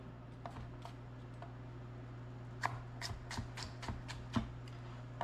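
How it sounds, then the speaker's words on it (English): A knife chops through an onion on a cutting board in a home kitchen, giving a short run of crisp taps and slices at close range over a steady low hum. "let's cut up the onion."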